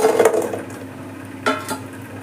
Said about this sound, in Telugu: వడలు ఉన్నాయి కదండి చిట్టి వడలు వేసి